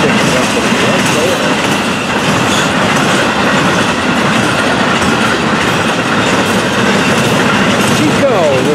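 A Florida East Coast 101 freight train carrying Mediterranean Shipping Company containers rolls past close by, with a loud, steady rumble and clickety-clack of wheels and a brief wheel squeal near the end.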